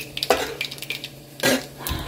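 Tempering (popu) is stirred into pappucharu, a lentil soup, in a home kitchen: a ladle scrapes and clinks against the pot over a faint sizzle, with a few sharper clanks spread unevenly.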